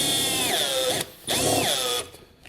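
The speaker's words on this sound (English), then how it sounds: "we're going to go ahead and drill 4 holes using our ECU as a template" A power drill bores holes through a vehicle panel for mounting an ECU, its high whine rising and falling in two close bursts with a brief pause between, loud and near.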